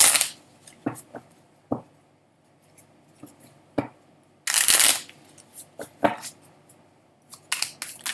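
A deck of tarot cards is shuffled and handled in irregular bursts of riffling and slapping card noise, close by, with quiet gaps between the bursts and no talking.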